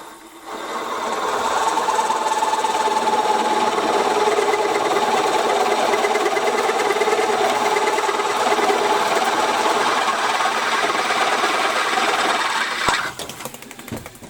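A loud, steady mechanical whir of a small milling machine drilling 16mm holes in steel plates runs for about twelve seconds, then cuts off abruptly.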